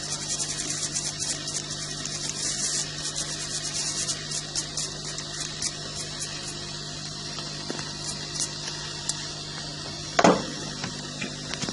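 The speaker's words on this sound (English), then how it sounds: "I'm just going to give it a nice clean, get rid of any excess flux." Excess solder flux is scrubbed off a key fob circuit board in a steady, close, soft rubbing and brushing sound that runs continuously, with a brief knock near the end and no speech.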